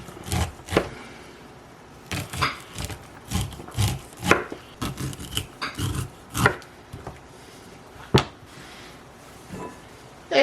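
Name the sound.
knife cutting corn kernels off the cob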